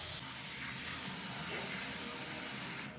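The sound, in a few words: water poured over fresh fenugreek leaves to soak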